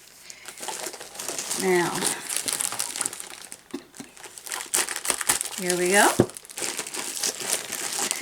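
Crinkling of plastic as a bag is handled, in bursts under a person talking nearby.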